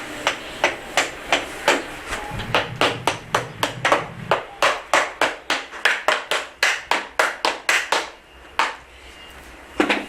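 Lead flashing being dressed down with a hardwood block, a fast run of about thirty sharp, close knocks in a steady rhythm, briefly pausing near the end before resuming, no talking.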